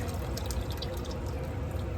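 Stock and water poured into a pot of lentils and tomatoes for a one-pot meal, a steady, continuous liquid rush without pause and no voices.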